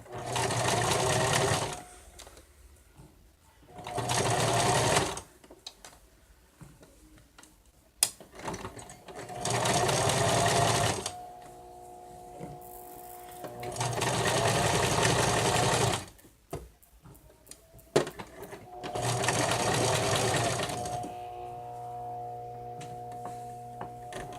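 Sewing machine stitching together the head pieces of a stuffed bear, running in four long bursts separated by pauses, with some quieter mechanical ticking and a low steady tone between runs.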